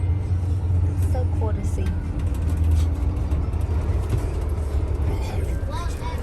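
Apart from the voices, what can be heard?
trucks and traffic at a truck stop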